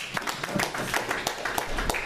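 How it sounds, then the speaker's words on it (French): People in a church clap for Jesus. The sharp claps come in a quick, steady rhythm, close and moderately loud, with a few voices faintly underneath. "Acclamons pour Jésus"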